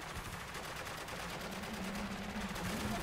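Suppressed gunfire in the Spec Ops: The Line video game, a steady run of muffled rapid shots lasting throughout under a dense, noisy game soundscape.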